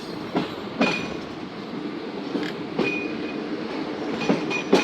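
Inside the Musapak shuttle train running from Multan to Dera Ghazi Khan, a steady rolling rumble carries periodic wheel clacks at rail joints and a few thin metallic squeals, with no voices.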